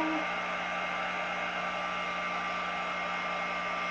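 A hair dryer blows on a tea bag, a constant close whirring roar with a steady hum that holds level throughout, no voices.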